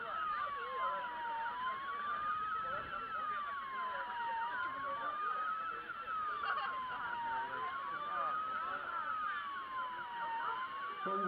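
A small floating model fire boat's siren wails continuously, rising and falling in steady repeating sweeps, thin and electronic.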